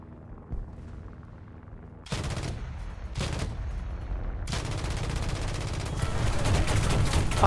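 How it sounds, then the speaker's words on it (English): Aircraft cannon fire in the War Thunder video game, loud bursts of rapid shots that start abruptly, break off, then turn into a sustained heavy barrage over engine drone. "Strafed by this massive thing with cannons."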